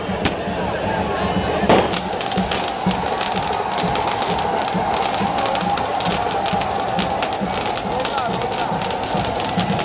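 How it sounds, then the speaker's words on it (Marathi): Fireworks burst over a cheering crowd at the Ekvira Aai palkhi procession of the Panvel Koliwada community, with one loud crack near the start and then a dense run of rapid pops and crackles over constant crowd noise. "फटाक्यांची आतिषबाजी बघू शकता तुम्ही."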